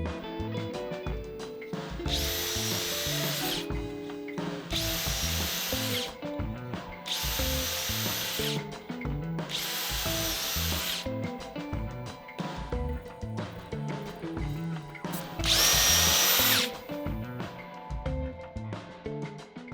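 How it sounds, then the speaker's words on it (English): A power drill bores dowel holes in wood through a Dowel Max jig, sounding as five loud whirring bursts with rattling, clattering handling of the tool and workpiece between them. "a single bit that needs to be slotted into a bushing before each hole can be drilled."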